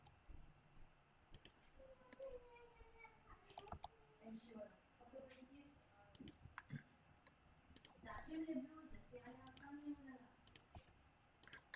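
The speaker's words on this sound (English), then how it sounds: "Got to click on it to let go." Computer mouse clicks while working in Blender, sharp isolated clicks spaced a second or two apart, quiet and close, under a person talking.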